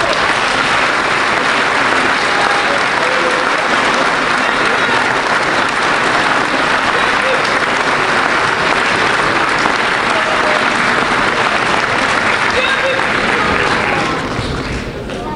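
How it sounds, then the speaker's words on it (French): Sustained, dense applause from an audience at a New Year's wishes ceremony, loud and continuous throughout before easing slightly at the very end. "Je pense que toutes et tous, vous pouvez vraiment les applaudir."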